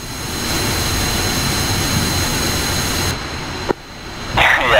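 Jet engine of a tank in the combat simulator DCS World, a loud steady roaring whoosh that cuts off abruptly with a sharp click, then a brief hissing surge.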